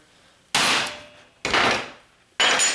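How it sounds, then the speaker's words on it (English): Three sharp, loud hammer strikes on a chisel, spaced about a second apart, cutting through steel trapping cable for a pogo snare anchor. Each blow is a bright metallic crack that rings and fades briefly. "Cut it. You can see how that chisel works."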